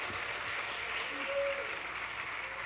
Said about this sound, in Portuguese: Central, aplaude Jesus aí, meu irmão.